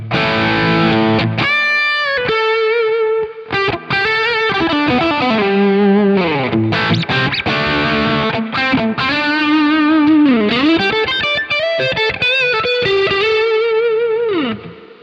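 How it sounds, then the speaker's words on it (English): A distorted electric guitar, captured on a Nano Cortex, plays a lead line with bends and sustained notes, loud and saturated, with no talking. "let's move on to the drive tone, and it sounds like this on the tank"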